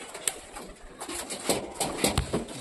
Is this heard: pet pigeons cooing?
yes